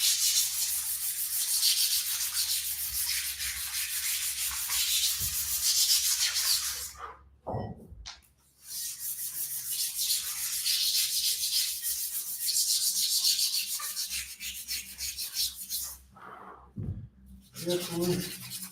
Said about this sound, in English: So with the sandpaper, I need to remove the old chalk.